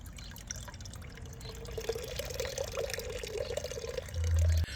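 Liquid manure tea trickles steadily from a lifted manure sack into a bucket, a close, continuous drip and stream of fertilizer lasting several seconds with no talking.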